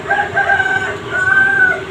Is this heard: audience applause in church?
no